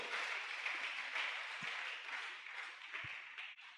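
A church congregation at a thanksgiving service applauds, a dense, sustained wash of many hands clapping that carries on evenly for a few seconds before tapering at the end, with no speech over it.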